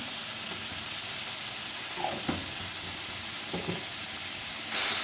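Turmeric, cumin and salt sauté in oil for a fish curry, a soft, steady hiss with a couple of brief stirring scrapes and no speech.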